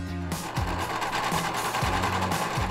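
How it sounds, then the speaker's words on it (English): A sewing machine runs steadily with a fast mechanical whir, its stitching rhythm broken by a few brief thumps. "Now get your sewing machine working."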